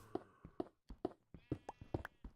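Sheep in the Minecraft video game bleat repeatedly in short, clear calls, about a dozen in quick irregular succession, close and alone without talk.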